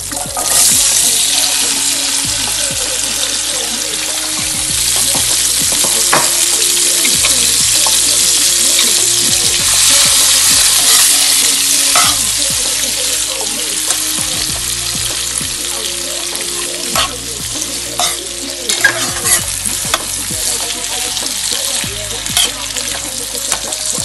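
Vegetables sizzle loudly in a hot pan for a prawn and vegetable casserole, with steady frying noise and repeated scraping of stirring throughout.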